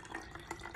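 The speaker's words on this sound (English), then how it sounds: "I will just fill my empty water bottle with this. Add some water." Water trickles and splashes faintly into an empty plastic water bottle, a soft, close, brief pour with small bubbling fluctuations.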